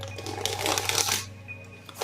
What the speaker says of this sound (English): So while I'm shuffling, I'm going to set some intentions for this reading.